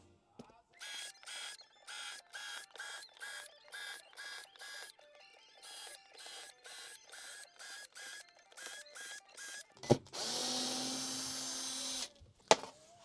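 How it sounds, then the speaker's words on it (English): A drill bores holes for a key security cabinet grid, a run of short, evenly spaced mechanical bursts that ends in one longer, louder whir. "I'll drill a hole right here in this corner"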